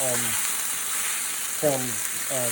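Onions sizzle steadily in a pan after venison has been browned for a pot roast, a constant hiss throughout, with brief snatches of a voice breaking in over it.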